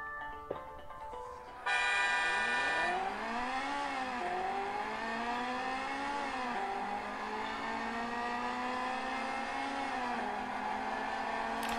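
Car racing game played on an iPad, a faint synthetic engine tone that revs up and down through gear shifts for several seconds after a brief starting tone, with no speech.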